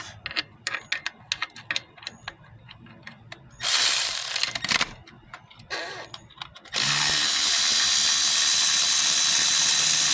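A ratchet clicks in quick bursts while loosening the last bolt on a 2000 Grand Am 3.4L engine during teardown, followed by louder sustained stretches of powered mechanical whirring, close up and with no voices.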